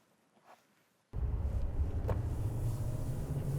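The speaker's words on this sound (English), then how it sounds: "we're cruising in the Silverado 2500 HD" A 2021 Chevrolet Silverado 2500 HD pickup truck cuts in abruptly with a loud, steady low engine rumble and road noise while driving, after a second of near silence.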